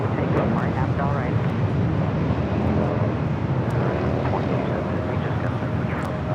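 A United Airlines Boeing 737-800 arriving from Austin, Texas lands at Los Angeles airport with a continuous loud jet rumble and rushing noise that stays even from start to finish.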